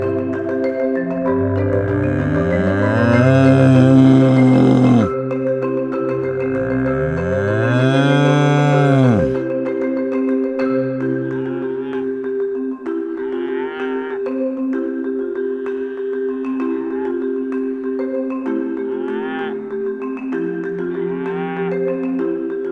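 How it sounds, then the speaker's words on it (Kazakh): A cow moos twice, long, loud, close bellows with rising and falling pitch, followed by a steady droning background with faint intermittent sounds. "Сиыр."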